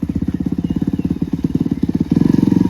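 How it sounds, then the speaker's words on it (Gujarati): A motorcycle engine runs close by with a steady, rapid pulsing throb that grows louder and fuller near the end as the bike draws up, with no talk over it. "દેખો બાઈક તો આવે"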